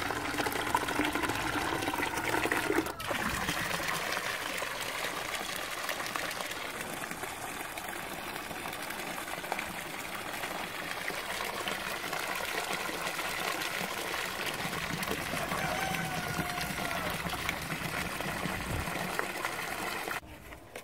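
Water poured out for backyard chickens to drink, a steady close gush and trickle of liquid running continuously for about twenty seconds after a brief sharp knock near the start.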